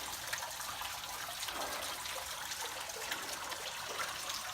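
Spring water trickles steadily over rocks at Shepherd Spring on the Ozark Highlands Trail, a continuous, fairly close watery hiss and babble with no talk.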